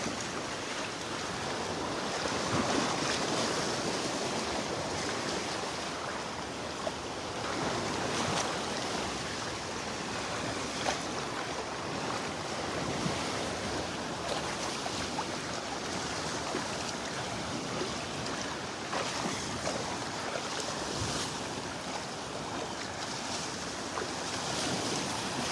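Ocean waves wash steadily onto a beach in North Naples, Florida, a continuous broadband surf roar with some wind buffeting the microphone, no voices.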